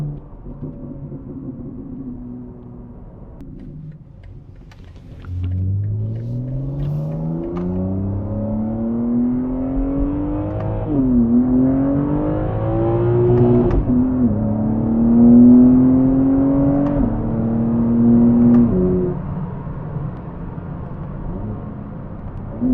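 A BMW M3 G80 with a MAD single non-resonated midpipe revs up from idle, its exhaust note climbing in rising sweeps and bouncing off the rev limiter, loud and close with no talking.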